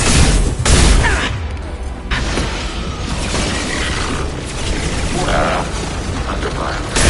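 Gunfire in the Mass Effect trilogy keeps up as a dense, loud, continuous battle din of shots and bursts with mechanical clatter, steady for several seconds with brief louder swells.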